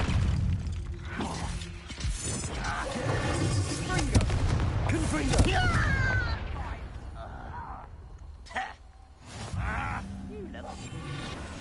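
The Confringo fire spell in Hogwarts Legacy goes off in a few sharp, crackling blasts with shattering and clattering, mixed with in-game voices and effects.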